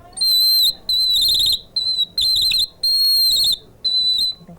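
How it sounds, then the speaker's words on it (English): A Cameroonian water whistle with water poured into it gives shrill, high warbling blasts in about seven separate bursts, loud and close, with short pauses between them. "It's called a water whistle. And you pour water into the top,"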